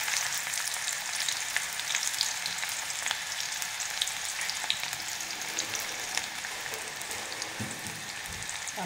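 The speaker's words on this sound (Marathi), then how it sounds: "इथं मी एका कढईत तेल गरम करायला ठेवलेलं एक चमचाभर, त्याच्यात आता कांदा टाकूया आपण" Finely chopped onion frying in a spoonful of hot oil in a wok, a steady dense sizzle and crackle running throughout, close and even with no talking.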